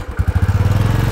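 Close, loud motorcycle engine with a rapid, pulsing chug throughout a brief burst, heard outdoors at a tourist spot.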